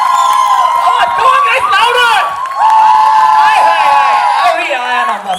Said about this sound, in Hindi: क्या इनके एंट्री के लिए थोड़ी तालियां और शोर सुन सकते हैं?